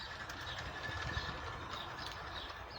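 Coal-fired brass Quarry Hunslet live-steam locomotive running on an outdoor garden railway, giving a steady close rumble and chuff with faint clicking from the running gear throughout, no voices.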